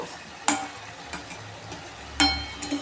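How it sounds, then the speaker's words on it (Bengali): Crab pieces fry in a thick spice paste, releasing their own juices with no water added, a low sizzle broken by a few sharp scrapes of a spatula stirring the pan. "জাস্ট মশলাটা আমি এখন কষাচ্ছি"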